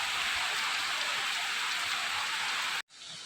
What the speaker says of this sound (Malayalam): മഴ കാണുമോ? നല്ല മഴ.